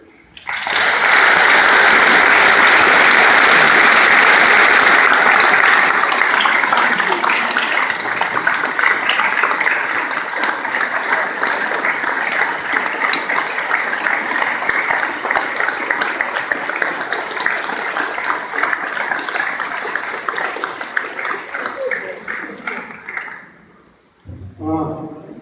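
A crowd at an outdoor Memorial Day ceremony at Water Oak Estates bursts into loud, sustained applause and cheering for about twenty seconds before it fades out.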